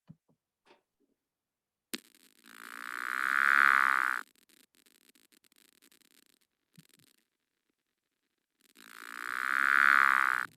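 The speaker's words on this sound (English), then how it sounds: "I call them the creaky door frogs because that's what that sounds like to me." Two drawn-out, rasping calls from a creaky door frog, each lasting a couple of seconds and separated by a long pause with a few faint clicks. The calls are loud and close, with no one talking.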